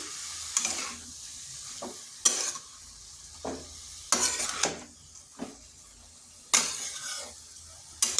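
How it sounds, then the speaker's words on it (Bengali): Cabbage is stirred into lentils in a frying pan, a spatula scraping and clanking against the pan in spaced strokes over a soft, steady sizzle. "এই ডালের সাথে বাঁধাকপি মিশিয়ে নিচ্ছি।"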